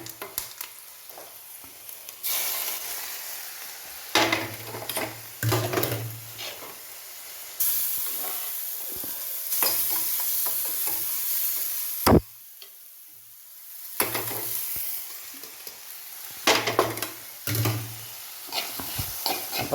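Hot oil goes over a just-cooked green gram and sprout stir-fry with the heat switched off, giving loud bursts of close sizzling and hissing steam with stirring and scraping between them and no talking.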